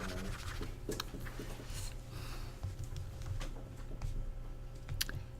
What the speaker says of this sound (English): I have to erase my perfect sphere.